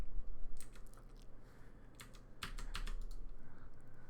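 Computer keyboard keys are pressed at a desk in quick, faint clusters of clicks, irregular bursts of typing over a low steady room hum, with no speech.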